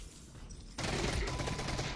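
A gun in the game Half-Life: Alyx opens up after a quiet moment: a sudden dense burst of rapid, loud shots that runs on steadily to the end, close by, with no talk.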